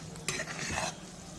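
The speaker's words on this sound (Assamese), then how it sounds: "বেঙেনা দি, জলকীয়া দি, পিঁয়াজ দি ভাজিছোঁ মাছৰ তেলখিনি" Fish oil frying in a pan with brinjal, green chilli and onion, a brief burst of sizzling and stirring scrapes, close and fairly soft, with no talking.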